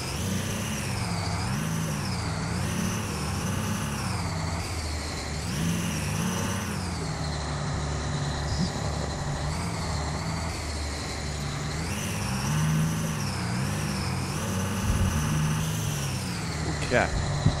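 A lifted Ford F450 Powerstroke dually truck in Farming Simulator 2015 produces a continuous engine drone that swells and eases gently with throttle changes, steady and moderately loud.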